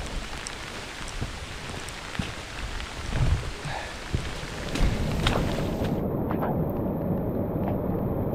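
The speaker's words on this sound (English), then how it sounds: "This rain is relentless" Heavy torrential rain pounds down outside a remote cabin, a loud, unbroken roar of drops on surfaces with occasional deeper rumbling swells and no talk.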